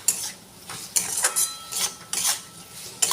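Chicken soup seasoned with salt and ground black pepper is stirred in a pot, giving rhythmic scraping strokes with a faint sizzle, close and steady, with no voices.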